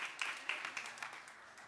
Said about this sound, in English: So let's give God a hand clap of praise.